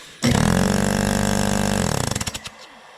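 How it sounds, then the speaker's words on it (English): A pressure washer with a blown compressor starts up loudly close by, holds a rough, buzzing drone for about a second and a half, then sputters through a few uneven pulses and dies away. "So part of the problem is this compressor's blown."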